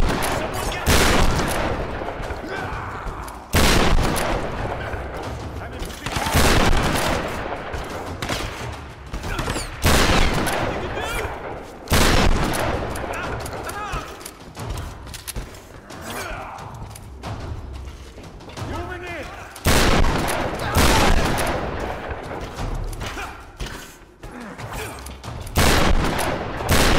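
Heavy gunfire in a Tomb Raider video game, repeated bursts of shots and rapid volleys, loud and close, with game voices talking in places.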